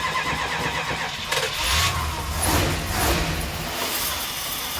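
A 1973 Plymouth Fury's engine cranks and catches, then runs rough and loud nearby, the idle surging a few times over a steady rumble.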